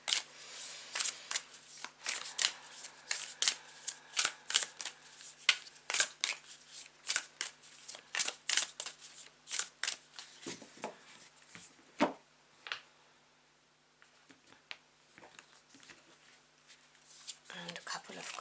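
A tarot deck being shuffled by hand, with quick bursts of riffling and card slaps in a steady rhythm, close and fairly loud, tapering to softer handling near the end; a voice talks faintly underneath.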